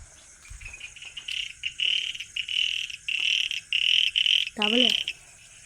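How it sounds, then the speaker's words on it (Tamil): Frogs croaking outdoors while someone explores at night, a repeated pulsing chorus in short bursts over a steady insect and cricket drone, with one deeper croak close by near the end. "தவளை இருக்குது காய்ஸ்"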